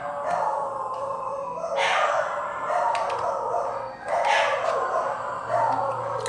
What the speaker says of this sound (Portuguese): Cachorros.